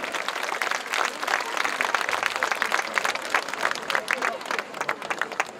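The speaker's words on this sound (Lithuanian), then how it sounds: "Aplodismentai" Audience at a club's anniversary rock show claps and cheers in a dense, continuous burst of applause, loud and close, with crowd noise mixed in.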